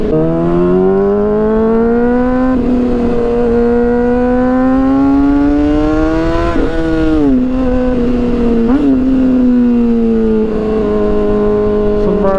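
Harley-Davidson motorcycle engine droning loudly and close, with rising and falling revs that swell in pitch mid-ride and settle back, alone without talk.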